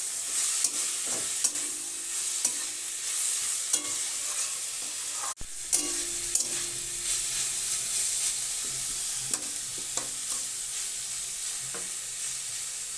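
Spices such as ground black pepper being stirred into spring roll filling in a pan: steady sizzling with repeated scraping strokes of a spoon, close and fairly loud, with no talking.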